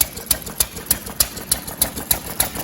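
An 80-year-old oddball engine runs just after its first start, governor wedged wide open, firing in a close, loud, steady rhythmic chuff of about four beats per second with metallic ticking on each stroke.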